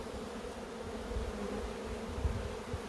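Honey bees hum around an open beehive, a steady, close, continuous buzz with no pauses.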